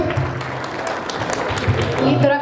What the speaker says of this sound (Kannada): ಸ್ವಲ್ಪ ಚಪ್ಪಾಳೆ ಬರ್ಬೋದಲ್ಲ ಹೊಸ ಕವನಕ್ಕೆ?